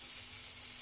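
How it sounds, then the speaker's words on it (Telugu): Beans frying in a pan, a faint, even sizzle with a low steady hum underneath, no voices. "బీన్స్ కొంచెం ఫ్రై అవనిద్దాము"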